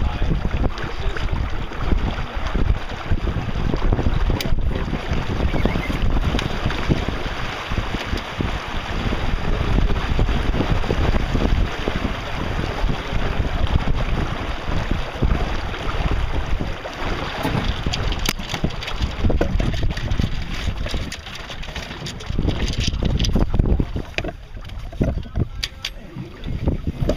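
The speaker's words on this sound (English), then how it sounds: "we've been sailing close haul the whole time." A sailboat sails close-hauled on a lake. Steady wind buffets the microphone throughout, mixed with water rush and hull noise, and stays loud and unbroken.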